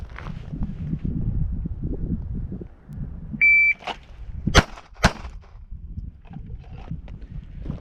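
Two sharp, loud handgun shots ring out about half a second apart during a timed strong-hand-only police qualification string, preceded by a short electronic start beep over background chatter and ambient noise.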